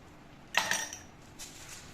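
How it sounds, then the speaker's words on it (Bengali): A few ice cubes clink into a serving glass for a spiced mango drink, one bright rattling burst followed by a softer second clatter, close and alone. "ডেকোরেশনের জন্য দেব কয়েক টুকরো বরফ"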